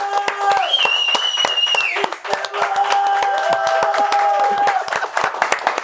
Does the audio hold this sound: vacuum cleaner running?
no